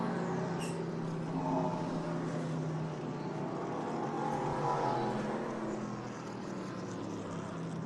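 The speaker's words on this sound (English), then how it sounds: "you can hear that the sound of these cars is absolutely fantastic as they roar through the Monterey Hills" Historic Trans Am race cars, including a 1970 car, roar through the Monterey hills at Laguna Seca in a steady, continuous engine drone that rises and falls with a distant, sustained quality.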